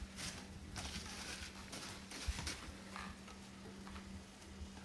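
Chopped onions, green peppers and celery saute in a pan with a faint, steady sizzle and the occasional soft stir or clink, heard quietly and close up.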